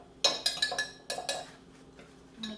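A regular metal eating teaspoon clinks against a pot while garlic is added, several quick bright taps in two short bursts, close up with no talking.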